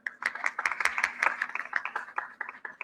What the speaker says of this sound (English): Can we have a massive round of applause for all these amazing leaders that we have on stage today?